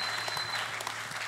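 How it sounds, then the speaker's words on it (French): Congregation applause during a Sunday church service, a soft, continuous wash of clapping heard from a distance at low volume. "Applaudissez."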